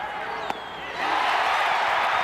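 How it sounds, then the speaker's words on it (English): A baseball stadium crowd at a 1986 Mets–Astros NLCS game reacts to a pitch, a brief murmur and a sharp crack, then the roar swells and holds loud, a distant, wide wash of cheering voices. "the crowd reacting on every pitch in this ball game"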